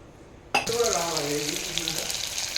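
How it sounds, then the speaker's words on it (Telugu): Cumin and mustard seeds dropped into hot oil for dal, bursting into a sudden loud sizzle after a brief quiet start, then a steady crackling hiss up close. "దానికి స్టవ్ ఆన్ చేసి ఆయిల్ వేసాను. జీలకర్ర, ఆవాలు,"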